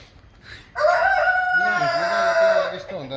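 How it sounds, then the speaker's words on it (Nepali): A rooster on a farm in Japan crows loudly and close by in one long drawn-out call, with a softer bird sound just before it. "यिनी चाहिँ जापानका कुखुरा हुन्।"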